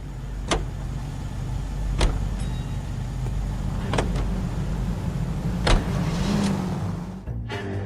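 A car drives steadily in L.A. Noire, a continuous low engine rumble with occasional sharp clicks or knocks, fading briefly near the end.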